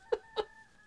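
Two short clucking rooster calls from a visual novel, close and clear with a brief gap between them, alone over a faint steady tone.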